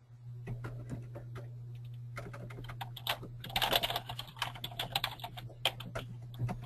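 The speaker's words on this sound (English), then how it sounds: "Chris, I can hear you're typing" Quiet clatter of typing on a computer keyboard, irregular bursts of key taps heard at a distance over a low electrical hum, busier in the second half.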